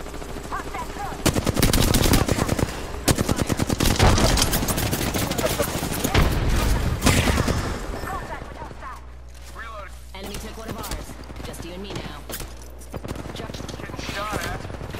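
Rapid automatic gunfire in the video game Apex Legends, dense loud bursts close by that thin into scattered shots and game sounds, with people talking over the later part.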